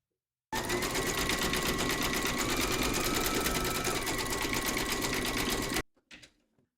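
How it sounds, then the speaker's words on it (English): An embroidery sewing machine stitches a nose and mouth outline in light pink thread, a fast, even, buzzing rattle that starts abruptly and runs loud and steady for about five seconds before stopping, followed by a brief faint shuffle. "Load your matching bobbin and thread colour for the nose and mouth into your machine and then stitch round number 6"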